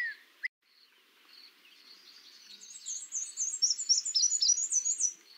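Faint, high squeaky song of a black-and-white warbler, a rhythmic series of thin squeaks that builds gradually and grows louder toward the end, after a brief click at the start, with no talking.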